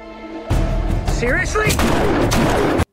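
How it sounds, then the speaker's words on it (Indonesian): Several sharp gunshots crack in quick succession, loud and close, in a TV crime drama scene, with a voice briefly heard amid the firing and a busy dramatic backdrop. "Dan tanpa ragu segera menembaki Dan hingga tewas"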